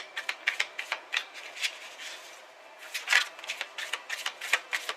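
Rapid crisp riffling of a deck of cards, two quick bursts separated by a short pause, close and clear with no talking.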